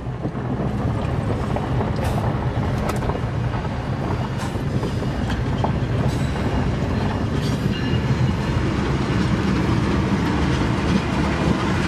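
Trains rolling past near Elmhurst, a loud continuous rumble with rhythmic clickety-clack of wagons on the rails and some wind buffeting the microphone, sustained throughout with no voices.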